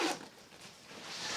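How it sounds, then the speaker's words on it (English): A single quick zipper pull on a Cricut organizer bag rasps briefly, close and fairly soft, then fades into quiet room noise. "we just zipper it up."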